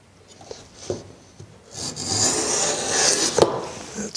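A router plane shaves into wood with short scraping strokes that build into a longer, steady rasping cut, close and fairly loud, with a few light knocks in between.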